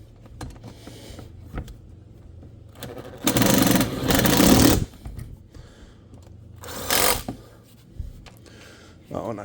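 An impact wrench snugs a valve adjuster on a 2018 EZGO golf cart engine, firing in two short bursts, the first longer and the second brief, amid quiet clinking of tools and a little talk.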